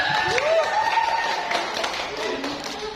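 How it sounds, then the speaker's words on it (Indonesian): An audience at a Q&A event with candidates applauds in a steady, dense wash of clapping, with a host's voice running over it throughout. "Ini tepuk tangan dulu."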